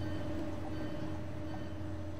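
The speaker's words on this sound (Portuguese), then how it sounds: "Estou aqui com o IC3, aqui o trem bala mais rápido da Alemanha." An IC3 German high-speed train runs in the Roblox game Terminal Railways, a quiet steady low rumble with a faint constant hum and no talk.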